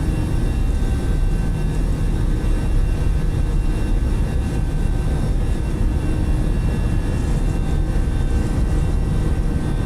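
Continuous takeoff-thrust roar from the twin jet engines of an Airbus A318 in Microsoft Flight Simulator 2020 departing Mexico City, a full rumbling wash topped by sustained whining tones, close and loud with no one speaking.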